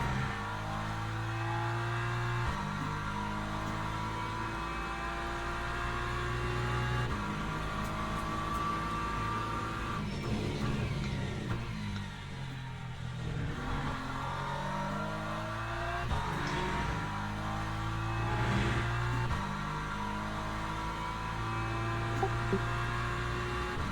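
A BMW M4 LMGT3 racing car in Le Mans Ultimate at Bahrain drones and revs steadily, its engine note climbing and dropping through repeated gear shifts. No one speaks.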